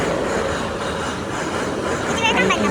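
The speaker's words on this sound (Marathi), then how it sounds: "शेवटी रेल्वे आली" A train passes a busy railway level crossing with a steady, loud rolling rumble throughout, and crowd voices are faintly mixed in.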